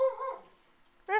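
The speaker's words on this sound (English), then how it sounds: "I don't know what she's barking at." A dog gives two short, sharp barks close by, separated by a brief quiet gap.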